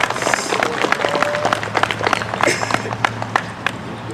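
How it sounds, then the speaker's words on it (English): A crowd at the DeKalb 2024 Flag Day celebration applauds the Boy Scouts, a steady patter of many hands with sharper individual claps on top, fairly near and continuing throughout. "let's give the Boy Scouts a nice round of applause"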